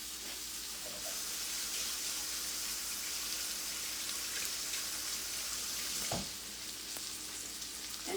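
A steak frying in a hot pan, steady loud sizzling and crackling spitting throughout, close by, with a brief clunk of movement near the end.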